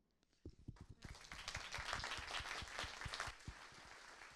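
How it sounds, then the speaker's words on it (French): A small audience at a talk on plant-based soil remediation claps for the speaker, a few scattered claps swelling into a dense, fairly faint round of applause. "On peut encore t'applaudir, je crois."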